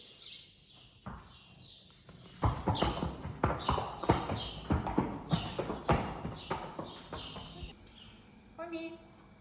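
Horse hooves clop on the floor of a stable at a Russian horse ranch, first sparse and then, from about two seconds in, a run of loud, uneven close steps, with a voice and faint bird chirps nearby.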